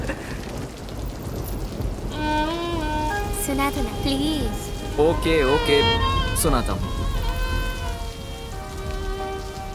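Rain falls steadily as a soft, constant hiss under people talking, while melodic tones rise and fall over it partway through.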